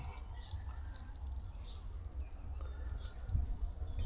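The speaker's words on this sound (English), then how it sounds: "Every time you want to empty, simply put your hose in up to your marker and then siphon it all off" Fresh water draining from a Roller Team motorhome's tank through a siphon hose, a steady low trickling and rushing flow with occasional drips, fairly quiet and continuous throughout, with no talking.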